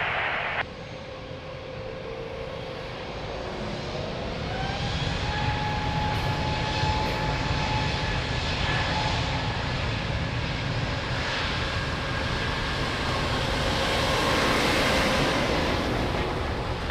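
An airliner taking off at Lisbon Airport, a loud, steady jet engine roar that swells as the aircraft accelerates, with rising whining tones over the broad rumble and no voices.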